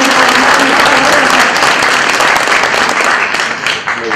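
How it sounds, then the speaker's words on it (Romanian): Loud, dense applause from an audience welcoming the commander of Logistic Support Battalion 317 at a Land Forces Day event, a full clapping roar that holds steady before thinning slightly at the end. "Vă rog mult să-l aplaudați."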